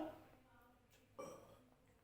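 A voice imitates a loud, full-stomach burp, delivered as a single short belch-like burst in the middle of a Hindi lesson, with some speech around it.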